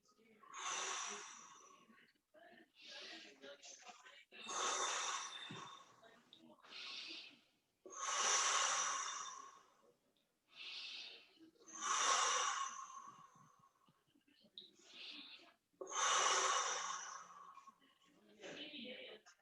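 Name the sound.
deep breathing in through the nose and blowing out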